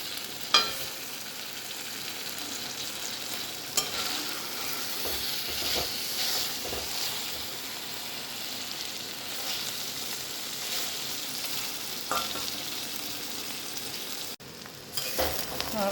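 Chopped cabbage fries in a pan with a steady, close sizzle, broken by a few sharp scrapes and clacks as it is stirred, with no talking.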